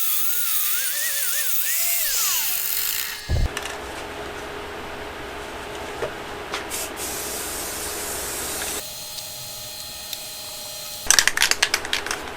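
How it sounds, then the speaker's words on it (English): A wire wheel scrubs rust off vintage Suzuki TS185 motorcycle fork parts, a harsh sustained grinding rasp that starts after a whining spin-up, runs loud and close, then cuts off and restarts near the end. "Now I'm going to hit these with a wire wheel to scratch them up so that paint sticks, and also to clean off any rust."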